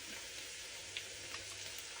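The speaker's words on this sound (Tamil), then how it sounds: "ஒரு 3 மினிட்ஸ் இந்த பீன்ஸை இந்த பட்டரில் பொரிக்க விடுவோம்." Green beans sizzle and crackle steadily in butter in a pan, a fine continuous frying hiss with a few small pops.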